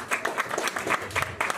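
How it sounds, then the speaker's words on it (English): A crowd applauds at a Law Society of Kenya presidential election event, a lively burst of clapping with uneven peaks, fairly close, as a speaker is welcomed. "Makofi."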